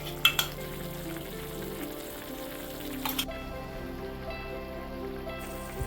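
Ginger-garlic paste sizzles in a pan during the making of a Kerala-style duck curry, with steady close frying crackle, a few clinks of a utensil and occasional stirring, and no talk.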